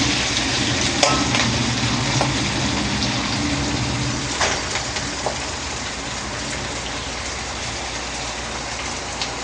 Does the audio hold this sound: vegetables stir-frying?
yes